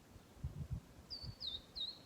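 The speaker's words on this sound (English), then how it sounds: "a verdin singing. So that's a little gray bird with a yellow head." A verdin, a small gray bird with a yellow head, sings three quick high thin notes in a row in a backyard, faint and somewhat distant over low rumbling background noise.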